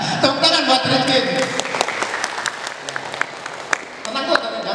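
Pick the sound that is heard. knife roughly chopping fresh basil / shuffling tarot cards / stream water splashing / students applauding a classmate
students applauding a classmate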